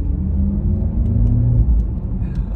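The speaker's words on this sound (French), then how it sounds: "ce bruit artificiel à bord de ce Taycan" The low, smooth artificial driving sound of a Porsche Taycan Turbo S electric car rises and falls gently inside the moving car, a droning tone over the muted rumble of driving.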